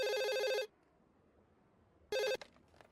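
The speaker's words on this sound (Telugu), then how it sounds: "మధుకు ఫోన్ చేయి." A telephone rings with two bursts of an electronic tone, a half-second ring, then a pause, then a shorter ring that is cut off, close and clear, with no speech.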